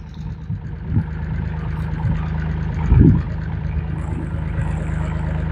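A JT5WL800 compact wheel loader rolling forward at low speed, its engine a steady close rumble with a couple of brief louder thumps and clunks along the way, no speech.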